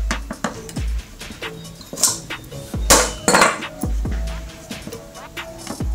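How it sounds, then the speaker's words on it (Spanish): Metal parts of a carburetor fuel bowl clink and clatter as it is taken apart, with sharp irregular knocks and rattles up close and some louder bangs near the middle. "Vamos a comenzar desarmando la otra parte donde se encuentra la cuba de gasolina"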